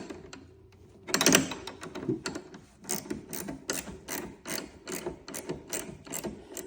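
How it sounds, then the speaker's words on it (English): An Allen wrench turns a bolt on a plastic mount, producing a close, repetitive series of clicking, ratcheting creaks and scrapes at a steady rhythm after an initial louder clunk, with no speech. "Then on my other side, I start tightening the bolt."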